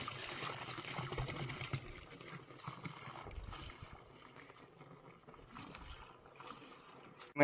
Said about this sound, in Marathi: जसे आपण फुलविक ॲसिड ओतले होते तसे आता आपण अमिनो ॲसिड देखील बॅलर मध्ये ओतणार आहोत।